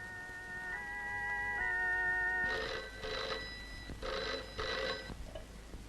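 A telephone rings with a dial tone first, then four evenly spaced bursts of ringing, fairly quiet and close.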